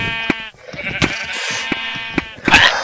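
Sheep bleat in the Minecraft Turf War game on the Mineplex server, several loud, wavering cries spread across a couple of seconds amid busy game sound effects.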